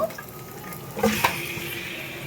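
Chicken meat frying in spice paste in a pan gives a low, steady sizzle with a couple of soft utensil clinks near the middle; no one speaks.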